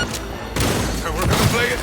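Gunfire crackles in a Cyberpunk 2077 firefight, bursts of shots and impacts piling into a dense, loud clatter, with a voice calling out partway through.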